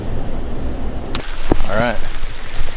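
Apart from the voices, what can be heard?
rain falling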